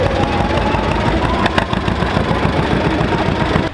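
A tractor engine running steadily at a tractor pull, a loud, close, continuous rumbling drone with no talking over it.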